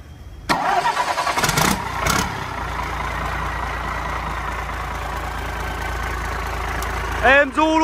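A Cummins L375 diesel engine cranks and fires, then settles into a steady, smooth idle that runs on loudly for several seconds, with brief bursts of revving and other noises near the start and the end.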